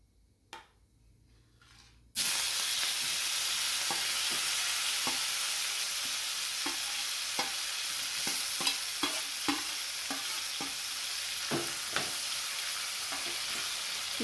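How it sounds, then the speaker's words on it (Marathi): Cumin and a chilli mixture drop into hot oil and burst into a loud, continuous sizzle after a quiet start, with intermittent clicks and scrapes of stirring close by. "इकडे हे तेल गरम झाले आता हे थोडंसं जिरं घालूयात आता यानंतर आपण हे पूर्ण मिक्स केलेली मिरची घालायची आहे"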